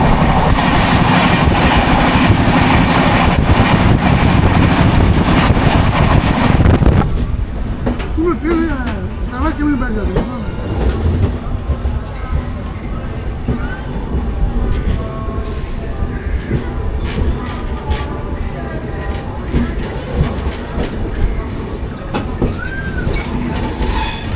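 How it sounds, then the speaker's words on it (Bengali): The 18004 Adra–Howrah Rani Shiromoni Express passes close by: a loud, roaring rush for the first several seconds that cuts off abruptly, leaving a quieter rattle of the onboard train with talking in the background. "আমাদের সঙ্গে দেখা হয়ে যাবে 18004 আদ্রা থেকে হাওড়াগামী রানী শিরোমণি এক্সপ্রেসের সাথে"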